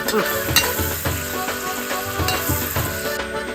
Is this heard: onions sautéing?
yes